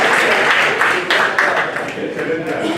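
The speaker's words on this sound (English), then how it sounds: "I think he deserves a very round of applause" An audience at a school event applauds, a dense wash of clapping that runs through the short clip with little variation, close and loud.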